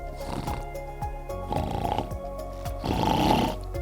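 A doctor voices an imitation of loud snoring while explaining airway obstruction, giving three rough, rasping bursts with short pauses between them, close and fairly loud against the quiet around them.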